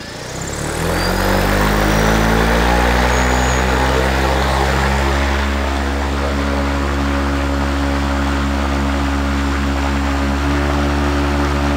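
An ALTA X drone's ActiveBlade propeller motor spins up during balancing toward about 2100 RPM, building to a loud, steady, close droning hum with a strong tonal whine that holds evenly for the rest of the clip.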